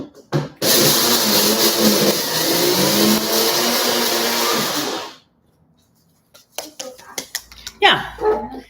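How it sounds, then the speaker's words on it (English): A NutriBullet grinder whirs loudly for about five seconds as it grinds milk thistle seeds, cutting off abruptly, followed by quieter clunks and handling sounds. "I'm going to grind these. It's going to be loud."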